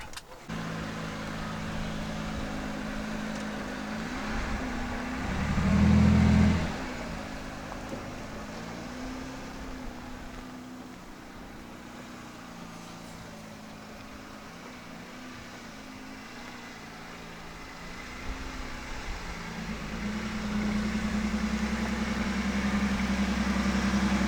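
A Ram ProMaster van's engine drones steadily as it tries to pull free from being stuck, with one brief surge in revs early on and a heavier rumble near the end, close and without talk.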